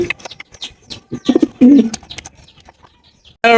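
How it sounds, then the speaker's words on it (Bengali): Lahori pigeons coo in short, deep, throaty bursts close by at a pigeon farm, with scattered chirps and soft rustling in between. "রয়েছে একজোড়া লাহোরি কবুতর রেড কালারের লাহুরি"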